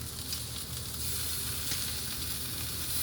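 Leftover steak sears in a hot pan, a steady dense sizzle and hiss that stays loud and even from start to finish, close by and without voices.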